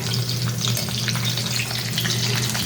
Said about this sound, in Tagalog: Saka itong iprituhin pa natin yan.